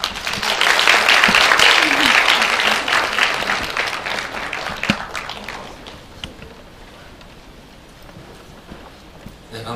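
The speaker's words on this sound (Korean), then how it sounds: "박수로 맞아주세요." An audience at a Korean international forum breaks into warm applause to welcome a keynote speaker, loud and dense clapping at first that gradually thins into scattered claps as it dies down.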